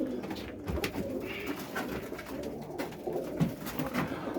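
Roller pigeons coo softly in a loft, low murmuring calls from a hen and cock with a squab nearby, running continuously under steady background noise.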